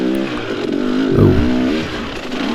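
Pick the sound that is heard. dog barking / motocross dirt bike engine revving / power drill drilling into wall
motocross dirt bike engine revving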